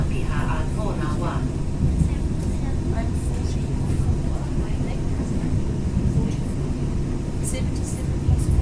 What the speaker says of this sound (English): And another Southern Line train right there.